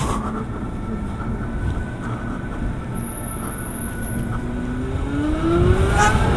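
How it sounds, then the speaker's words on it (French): Steady road traffic rumbles around a rider on a quiet Zero SR/F electric motorcycle, a continuous broadband wash with a few rising vehicle tones passing and growing slightly louder near the end. "Le trafic autour de moi fait plus de bruit."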